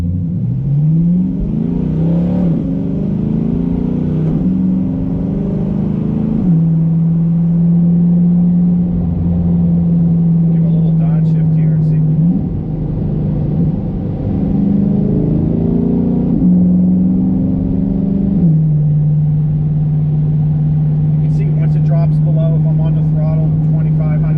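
A C8 Corvette with a Borla ATAK exhaust, valves open, roars as it accelerates through several gears, droning loudly between shifts, with a deep rumble close by and little background noise.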